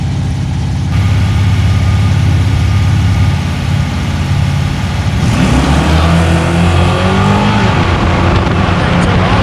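A naturally aspirated 460 drag race car with its full exhaust fitted idles with a deep, loping rumble at a grudge-night event, then its note swells and shifts as the engine revs up, loud and close.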